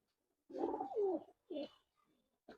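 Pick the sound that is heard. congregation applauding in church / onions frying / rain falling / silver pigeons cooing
silver pigeons cooing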